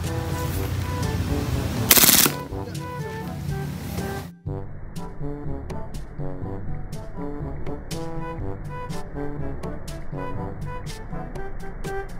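A WE Glock 18C airsoft pistol fires rapid full-auto bursts, sharp and close, amid rattling clatter, with a loud hiss burst early on and steady clicking reports afterward.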